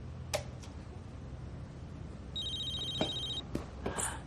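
A telephone rings in a Hong Kong crime drama scene, giving one short electronic ring burst partway through over faint ticking and low room noise.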